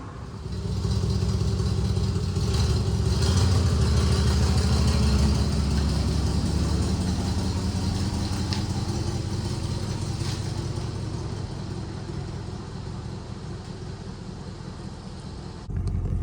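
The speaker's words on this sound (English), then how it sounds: "We're gonna take it down the road and do a test drive on it here in a minute." A 1963 Ford Fairlane 500 engine runs on a test drive, a loud steady low rumble heard from inside the car that holds constant for most of the stretch, then eases slightly and dips near the end, with no talking.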